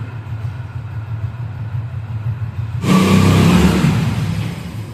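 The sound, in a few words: car engine starting and revving in cold weather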